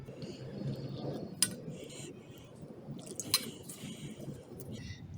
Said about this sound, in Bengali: এখন আমি অল্প অল্প জল দিয়ে এটাকে ভালো করে মেখে নেব